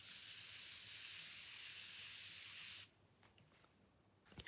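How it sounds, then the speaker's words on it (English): Makeup setting spray is misted in one long, steady hiss lasting close to three seconds, close and fairly loud, then cuts off abruptly, leaving quiet room tone and a few faint rustles. "I am going to spray some setting spray."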